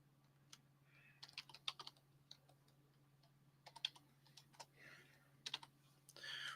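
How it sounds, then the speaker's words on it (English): Keys clack on a computer keyboard in scattered quick bursts of clicks separated by short pauses, close and fairly quiet over a faint steady hum. "I'm typing in a letter and then I type in the other letter"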